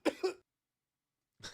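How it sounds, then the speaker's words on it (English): A few short, close coughs in a quick burst, then a pause before one more brief cough at the end. "Coughing trouble at the end."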